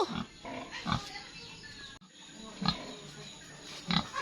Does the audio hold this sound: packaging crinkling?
no